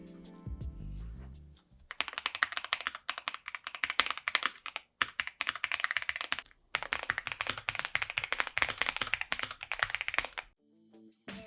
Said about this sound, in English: this keyboard feels and sounds amazing